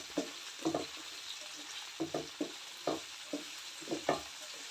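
Sliced onions with salt frying in a pan for a Kerala-style dried fish curry, a steady high sizzle broken by repeated scraping stirs in uneven clusters, close and clear with no talking.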